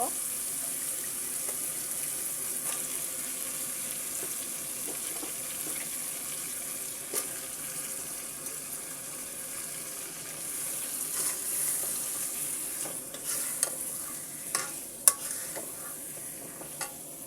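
Cleaned chicken gizzards, liver, wings and feet fry in a pan with an even hiss, a few sharp clinks of stirring, and soft talk at moments.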